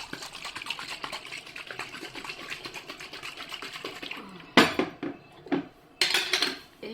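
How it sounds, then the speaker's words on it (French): A metal lid is set down on a pan of water in a home kitchen, giving a sharp clatter and a few short metallic knocks that follow a stretch of steady background hum and rattling. "Je vais fermer avec son couvercle."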